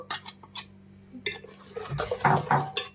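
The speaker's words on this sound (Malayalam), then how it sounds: "നമ്മൾ എടുത്ത പൊടി നമ്മൾ കുറേശ്ശെ ഇതിലോട്ട് യോജിപ്പിക്കുവാണ്" A spoon stirs and scrapes through a thick ground coconut and rice batter as rice flour is mixed in, with soft wet sloshes and clinks against the bowl, close and intermittent.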